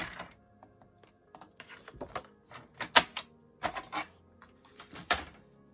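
Close, quiet series of crisp snips and paper crinkles in irregular bursts as paper is cut for a watercolour herbarium pouch.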